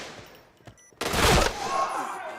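Gunfire in a Point Blank match at the international championship: a sudden loud, dense burst of rapid shots that decays into a sustained roar and lingering reverberation.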